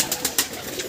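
Domestic pigeons coo softly in a hobbyist's pigeon loft, with a few short rounded calls over a quiet background.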